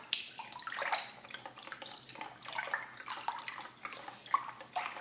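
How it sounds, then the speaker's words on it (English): Water sloshes and splashes in a bathtub as waves are stirred up around a floating Lego police boat, with a steady run of close, irregular lapping and swishing. "Create some waves."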